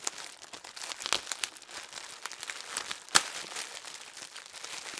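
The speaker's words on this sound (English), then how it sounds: "Crinkle, crinkle alert." Plastic packaging from a January 2020 Confetti Collection subscription box crinkles and crackles close by, in soft, irregular bursts with one sharper crackle midway.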